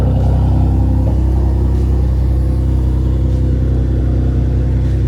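Mitsubishi 3000GT drift car idling close by at a cars and coffee meet, a loud, steady low rumble that holds even with no revving or voices.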